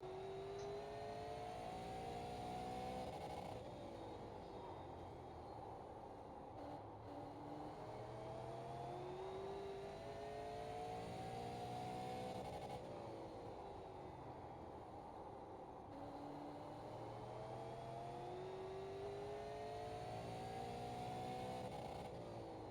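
A super late model race car laps Martinsville in the iRacing video game from the cockpit, its engine droning loud and continuous as it rises and falls in repeating cycles through the corners and straights.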